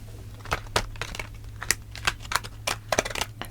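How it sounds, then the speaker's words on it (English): A deck of cards is shuffled up close in a quiet room, quick papery riffles and soft slaps repeating in short irregular bursts over a faint low hum. "it's relaxing to actually watch them shuffle the decks and to hear the cards"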